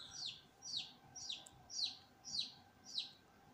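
Newly hatched chicks resting give soft, high peeping chirps, about six evenly spaced calls in a slow steady rhythm. The sound is faint and slightly distant over a quiet background hum.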